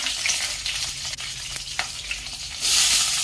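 Onions and green chillies for potato poori masala fry in hot oil, giving a loud, constant sizzle with faint stirring scrapes that swells into a brighter, louder hiss toward the end.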